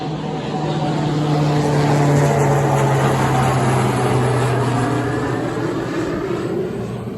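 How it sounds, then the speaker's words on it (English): Airplanes pass overhead above a garden, a loud, steady droning roar with a low engine tone that slowly falls in pitch as they go by, continuous throughout with no talking. "Don't mind the planes flying over."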